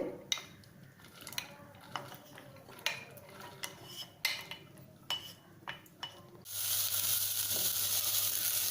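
Spiced field beans stirred in a pot with a spoon, a series of irregular metallic scrapes and clinks against the pot, then a sudden steady sizzle-like hiss rising for the last couple of seconds, with no talking.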